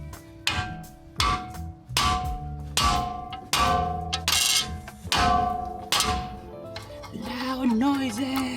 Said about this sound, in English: I'm gonna hit it because I don't have any other tool to take that off.